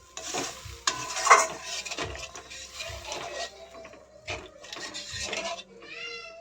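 Rui fish curry simmers in a pan just after water is added, with a low sizzle, clinks and stirring scrapes of a spoon against the pan, and a short cat-like meow near the end.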